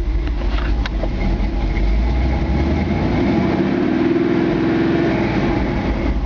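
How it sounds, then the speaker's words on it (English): A 1957 Chevy truck's deep, steady engine idle rumbles continuously with a throaty, aggressive low-end dual exhaust tone, close and constant throughout. "Got a nice sounding, aggressive sounding exhaust."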